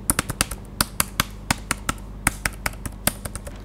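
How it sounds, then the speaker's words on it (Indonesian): Typing on a Logitech K380 wireless Bluetooth multi-device keyboard: a close run of sharp, fairly muted keystroke clicks at an uneven, brisk pace, about twenty taps alone without talking. "Kemudian saat mengetik suaranya cukup teredam."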